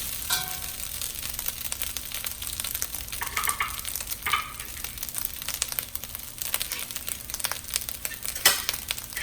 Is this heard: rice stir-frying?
yes